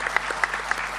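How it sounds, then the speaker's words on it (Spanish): Applause for Ana at the opening of a national philosophy congress, a short burst of scattered, fairly sparse claps heard at a moderate distance. "Un aplauso grande para Ana"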